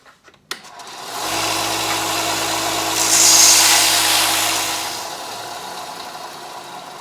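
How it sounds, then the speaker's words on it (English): A belt sander whirs steadily while smoothing the ragged edges of cut pieces for a worktable sawmill upgrade, the grinding hiss swelling briefly as the workpiece presses against the belt before the motor winds down. "So I'm just going to run over to the belt sander and clean that up."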